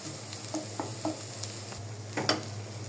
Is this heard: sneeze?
no